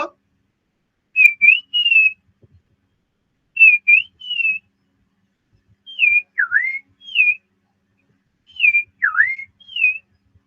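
A person whistles an imitation of the iora's call, delicate, clear two-note phrases repeated in four short bursts separated by silences, close and loud against a quiet background.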